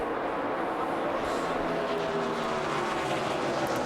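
NASCAR race cars roar around Kansas Speedway in a 2009 Lottery 300 race, a continuous loud engine drone sustained throughout with no break.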